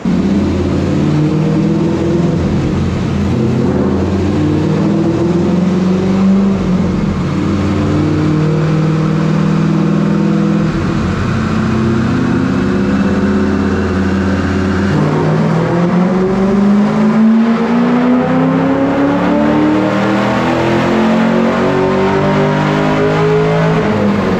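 A car engine revs hard and steadily under load on a dyno during tuning, pitch climbing repeatedly through long sustained pulls, loud and close with no voices.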